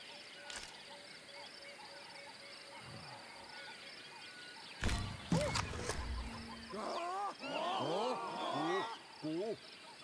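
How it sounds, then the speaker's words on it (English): A tiger roars in the video game Ancestors: The Humankind Odyssey, with loud, abrupt roaring bursts over a jungle background, followed by a run of rising, whooping animal calls. "I know there's a tiger. I can tell."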